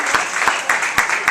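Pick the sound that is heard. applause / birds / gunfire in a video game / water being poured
applause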